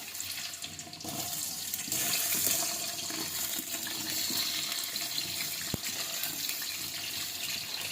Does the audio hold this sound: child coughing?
no